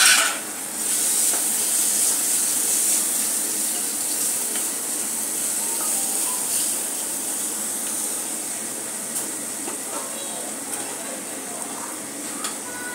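Curry leaves and a little tomato frying in a pan for a red pumpkin bhaji, giving a steady, moderately loud sizzle and crackle that persists throughout, with faint stirring noises and no speech.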